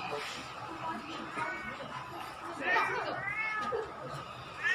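A village cat meows repeatedly in short, close, bright calls, with a person speaking over and between them.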